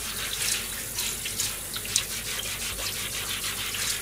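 Steady running tap water splashes onto a cutting board being washed in a kitchen sink, a continuous close hiss with small shifts as the board is moved through the stream.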